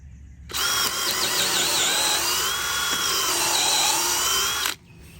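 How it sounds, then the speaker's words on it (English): A power drill whines steadily for about four seconds boring a pilot hole into a fence post, loud and close, its pitch wavering slightly before it stops. "you need to drill your pilot hole relatively deep."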